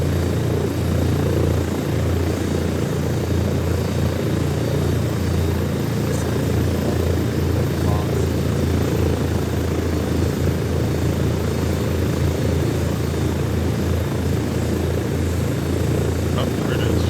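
An aircraft in the game ArmA 3 rolls down a runway at about 40 knots, its engine a steady, dense drone that holds evenly throughout with no breaks.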